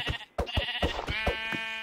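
A sheep in a Minecraft-style survival game bleats several times in quick succession as it is killed, clear and close with wavering cries.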